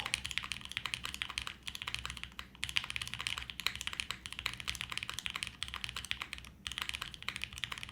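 Steady, rapid typing on a mechanical keyboard, crisp clacky keystrokes close up, with brief pauses and a few heavier key presses.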